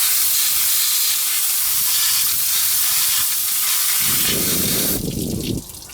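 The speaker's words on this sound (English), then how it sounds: "I'm gonna go get the hose and spray this out to clean up all this dirt and crap in here" A garden hose sprays water into a dirty Ford V8 engine bay, a loud continuous close hiss and splatter that shifts to a harder drumming patter on metal before easing off.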